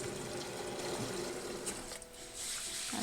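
Rice grains being rinsed under running water, a steady close wash of splashing and trickling with a faint mechanical hum underneath, no voices.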